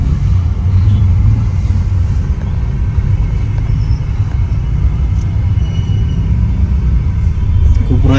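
Constant low rumble of busy traffic on a main road near Ekvira during a palkhi procession, vehicles droning steadily nearby with a faint voice underneath.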